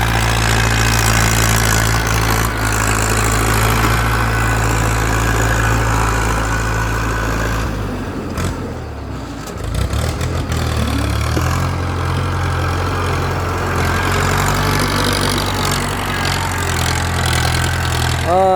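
A Ford 6610 tractor's diesel engine runs at a steady idle, close and loud, with a deep constant rumble that briefly dips near the middle before settling back to its even throb.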